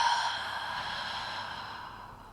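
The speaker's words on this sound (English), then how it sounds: "Open the mouth, exhale completely." A single long, deep exhale through the open mouth during a yoga breathing exercise, a close, steady breathy rush that fades slowly over two seconds. No one talks.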